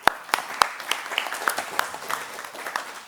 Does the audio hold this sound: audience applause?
yes